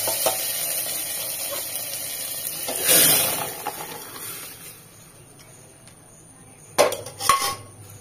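Metal pressure cooker clatter and sloshing water as it is washed, with scraping and a couple of sharp clanks near the end, in a quiet setting.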